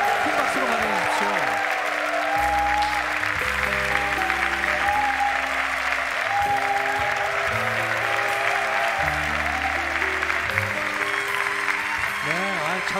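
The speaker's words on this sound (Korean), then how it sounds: "큰 박수로 환영해 주십시오." Studio audience applause welcoming a father onto the stage at a military air base show, loud continuous clapping with cheering, while stepped musical tones play underneath throughout.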